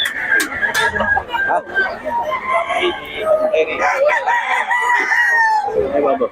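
A Pumpkin Hatch gamecock rooster in Bocaue crows loudly and close by, its long strained calls overlapping with clucks and people talking nearby.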